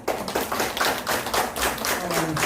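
Audience members at a lifelong-learning forum in Gwangmyeong clap in a sparse, fairly rhythmic run of distinct hand claps, moderately loud and steady for a couple of seconds.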